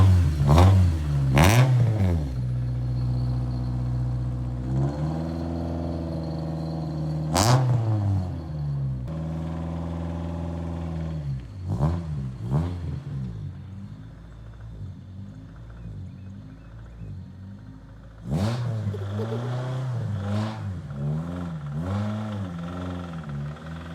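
A 1995 Honda Civic DX with a manual gearbox pulls up close by, its engine idling and revving in bursts with sharp clunks and shifts between them.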